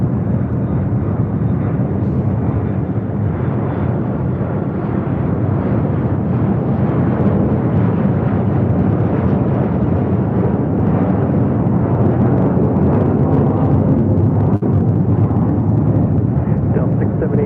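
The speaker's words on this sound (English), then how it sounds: "And a American Dreamliner now rolling down 7 left there on the south side" An American Airlines Dreamliner jet rolls down runway 7 left on the south side of LAX, a steady, distant rumbling roar that holds throughout while a voice talks over it.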